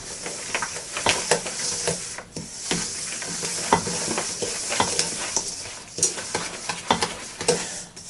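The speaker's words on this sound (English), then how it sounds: "now we're going to stir all of that in" Cherries and sugar stirred in a pan, a steady run of wet scraping and gentle sizzling close by, with brief clacks of the utensil against the pan and no talking.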